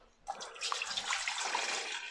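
Water is poured and splashed onto a pet enclosure: a sudden hissing rush of liquid with scattered splashes and droplets, close and continuous after a quiet start.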